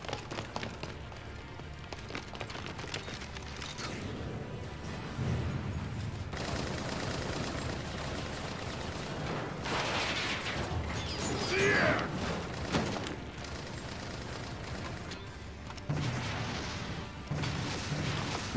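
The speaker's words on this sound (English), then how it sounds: "They shooting missiles, bullets at him." Missiles and bullets fired in Tekken 7, heard as a busy, mechanical barrage of clattering shots, impacts and whooshes that rises and falls across the stretch, under game music.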